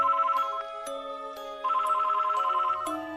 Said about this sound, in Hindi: उनका लैंडलाइन बजा